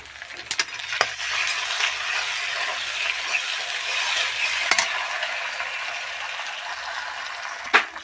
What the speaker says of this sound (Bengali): আর কাঁচা লঙ্কা বাটা সব মশলাগুলো এবার দিয়ে একটু কষিয়ে নেব